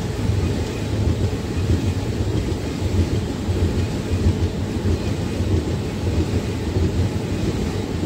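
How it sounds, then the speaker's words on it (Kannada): Two Indian express trains, the Yashwantpur–Sindhanur and the Basava Express, run side by side, giving a steady, loud low rumble of wheels and rolling stock that holds without a break throughout. "ಯಶವಂತಪುರ ಸಿಂಧನೂರು ಮತ್ತೆ ಬಸವ ಎಕ್ಸ್ಪ್ರೆಸ್ ಎರಡು ಪ್ಯಾರಲಲ್ ಆಗಿ ಹೋಗ್ತಾ ಇದ್ದಾವೆ."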